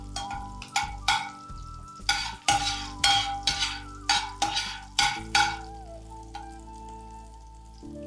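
Ingredients for pineapple pachadi are stir-fried in a pan: rhythmic scraping strokes of a spatula come roughly every half second over a soft sizzle, close and without talk.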